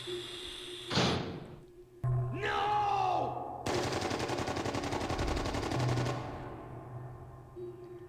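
Video game gunfire: bursts of rapid shots and heavy thumps ring out at moderate level over a quiet ambient background, including a long sustained volley of automatic fire in the middle.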